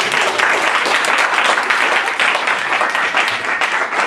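Audience applause fills a lecture hall at Burning Books in Buffalo, NY, as a talk ends: dense, steady clapping from a full room, loud and sustained throughout with no voices over it.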